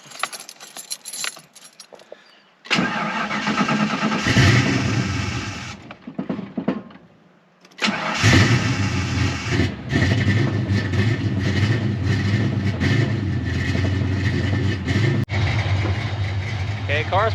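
A 1988 Ford Mustang LX Fox-body engine cranks and starts, then settles into a loud, steady idle, with keys jangling early on and a voice talking over it.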